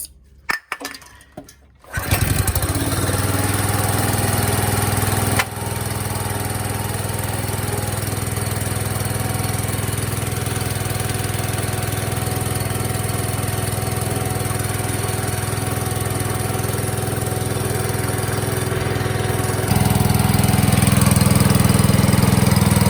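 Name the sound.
Honda small petrol engine running on choke, hydraulic power pack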